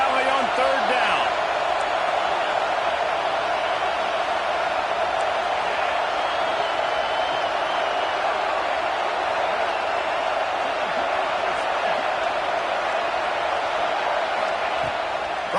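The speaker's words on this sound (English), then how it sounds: "Here comes the noise from this big crowd in Happy Valley on 3rd down." A big college football stadium crowd at Happy Valley roaring on third down, a dense, continuous wall of loud cheering and noise that holds steady throughout.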